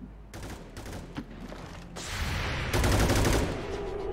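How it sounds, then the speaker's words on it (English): Covering gunfire in the video game XCOM 2 crackles in dense, sustained bursts, with a few separate volleys leading into a louder, continuous fusillade near the end. "Covering fire."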